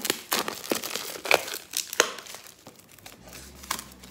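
Crinkling plastic and paper packaging being torn and crumpled open by hand, close and irregular with sharp rustles and tearing bursts.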